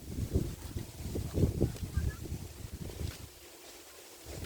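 Strong gusts buffet the microphone in an open seaside park at sunset, a low rumbling roar that surges and fades unevenly before easing off near the end.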